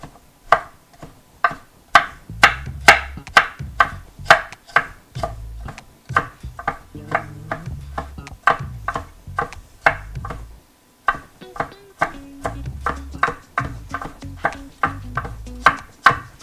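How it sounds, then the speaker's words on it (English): Rapid, crisp knife strokes julienning carrots on a cutting board, a close run of sharp chops in quick bursts with a brief pause partway through, no talking. "Here's our last bit of julienne chopping"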